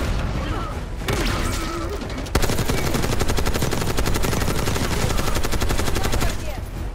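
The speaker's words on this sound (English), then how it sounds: "Who the hell is shooting at me?" Sustained automatic gunfire in the video game Call of Duty: Black Ops 6, dense rapid bursts that intensify midway and run nearly continuously, loud and close with a faint voice underneath.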